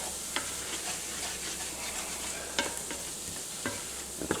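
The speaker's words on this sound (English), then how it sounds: "And yes, we are making a roux." Roux cooking in a pan, a steady soft sizzle with the scrape and tap of a utensil stirring it every so often, close and fairly quiet.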